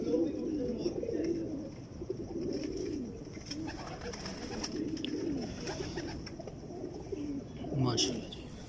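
Pigeons coo in low, soft repeated phrases throughout, mixed with fainter bird calls, while people talk steadily over them in a loft kept by a Lahore pigeon fancier.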